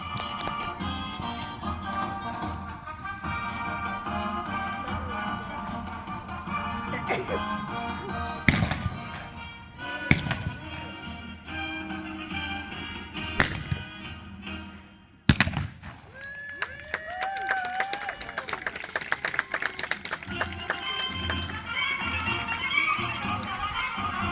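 At a Buffalo Bill Wild West show, a woman rides a horse while firing shots. Sharp gunshot cracks ring out over galloping hoofbeats, and loud whinnies and neighs follow near the end.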